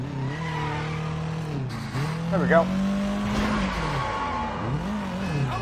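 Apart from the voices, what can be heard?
car driving and skidding in video game Sleeping Dogs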